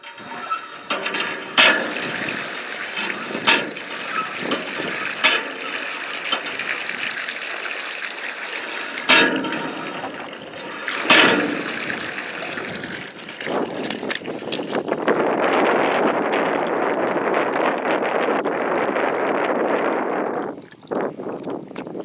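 At John Daw Well, a hand pump is worked up and down. Irregular creaks and clanks repeat over several seconds, then water gushes and splashes loudly for a stretch before stopping.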